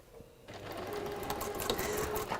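A sewing machine stitches a quarter-inch seam in a textile workshop, its steady motor whir and rapid needle clatter starting abruptly after a brief quiet moment and running continuously and close.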